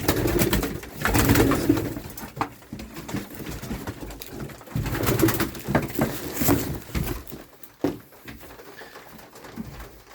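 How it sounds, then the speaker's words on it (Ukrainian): Several racing pigeons in a new pigeon loft coo in soft, repeated rolling calls, close by, rising and falling in bursts with quiet gaps between. "Ось такі голуби. Це все, все спортивні голуби."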